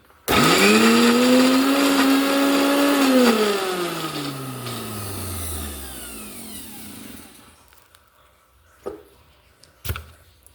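A kitchen mixer grinder blends mango chutney with a loud, steady whirring motor for about three seconds, then slowly winds down to a stop, followed by a couple of sharp clicks.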